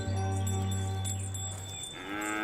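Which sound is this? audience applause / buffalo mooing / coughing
buffalo mooing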